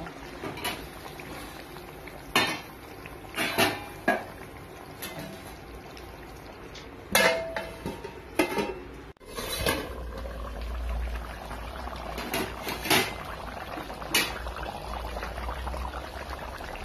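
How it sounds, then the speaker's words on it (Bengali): Spicy red chicken curry stirred in a pan with a few scraping clatters of a utensil, then a lid set down, followed by a low bubbling simmer that continues to the end. "তারপরে একটু নাড়াচাড়া করে ঢাকা দিয়ে দেব সিদ্ধ হবার জন্য।"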